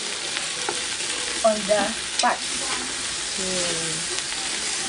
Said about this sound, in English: After a while, we now add the onions